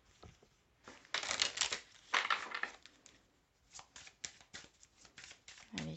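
Oracle cards shuffled by hand in several quick papery bursts, close and fairly quiet, with pauses between the rustling riffles and small taps toward the end.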